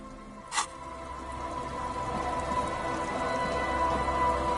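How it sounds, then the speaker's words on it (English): Steady rain falls in a video game, a continuous dense patter with one brief click near the start and no voices over it. "It's getting late, and it's raining."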